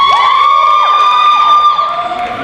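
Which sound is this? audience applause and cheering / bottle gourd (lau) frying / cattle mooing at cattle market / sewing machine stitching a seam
audience applause and cheering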